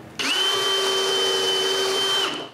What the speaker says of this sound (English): I need to use the indexing pin to continue drilling more of them